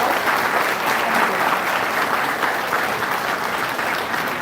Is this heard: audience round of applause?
yes